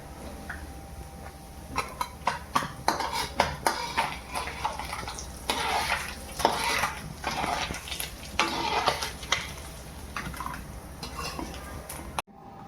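White sardines (modaka river fish) frying in a pan, a steady oily sizzle broken by scraping and stirring clatter of a utensil against the pan, close and moderately loud.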